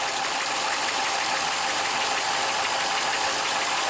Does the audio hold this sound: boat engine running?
yes